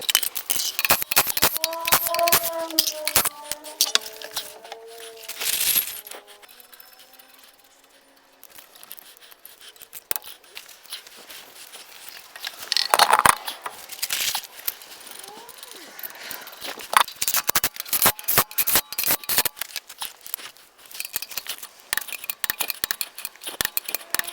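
A torque wrench tightens wheel stud nuts on a Sprinter van during a wheel spacer and stud kit install. Repeated crisp metallic clicks and ratcheting clinks are heard close by with no talking.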